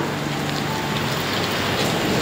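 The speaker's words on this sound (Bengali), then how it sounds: "বৃষ্টিটা এখন জোরে এসে পড়ছে।" Heavy rain pours down steadily outdoors, a dense continuous wash of drops with no voices and no distinct thunder clap.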